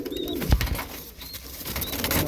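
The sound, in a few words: pigeons cooing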